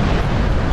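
A tank cannon round strikes its target in the combat simulator DCS World, heard as a brief, loud, full-bodied explosive roar with heavy low rumble and no voices.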